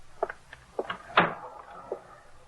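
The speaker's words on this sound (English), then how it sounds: "Shut the door." A door is pushed shut indoors, a single solid thud with a short rattle amid a few quieter knocks and shuffles nearby.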